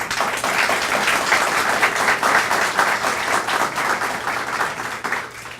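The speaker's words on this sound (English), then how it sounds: "So can we give them a round of applause?" Audience applause at a Spiritist federation talk on gratitude and mindfulness, dense, even clapping that holds steady at a fairly loud level for about six seconds with no voices over it.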